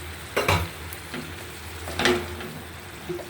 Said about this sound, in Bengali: এখন আমি দিয়ে দিচ্ছি আলু আর কাঁকরুল